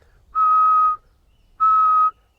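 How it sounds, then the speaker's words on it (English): Two simple lip whistles, each a clear steady tone lasting about half a second, separated by a short pause, loud and close in an otherwise quiet setting. "For example, simple whistle,"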